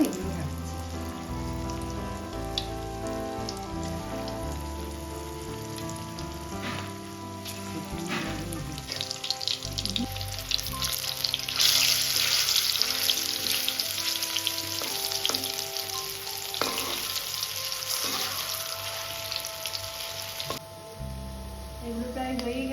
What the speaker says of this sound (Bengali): কড়াইয়ে তেল গরম করে সর্ষে তেল দিয়ে দিয়েছিলাম